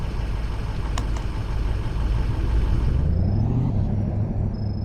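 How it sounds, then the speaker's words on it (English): A Ford pickup truck engine idles in the Greenville video game, a steady mid-pitched rumble that rises in pitch toward the end as the revs climb. "I'm going to customize this beautiful sounding pickup truck"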